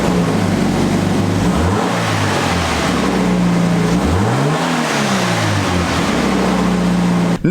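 Toyota GT86 with its Subaru boxer engine on the stock exhaust, revved hard several times in a row, the pitch rising and falling loudly and close, with no talk over it.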